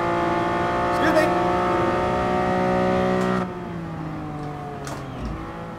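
Aston Martin concept car with an 800 hp engine in GT Sport, held at a steady high-rpm drone that drops in pitch as the driver lifts off, with brief speech over it.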